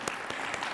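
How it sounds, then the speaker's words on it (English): Faint, sparse clapping from an audience at a Martin Luther King Jr. birthday celebration, a few distinct claps spaced out over a quiet room. "let's give a round of applause for that"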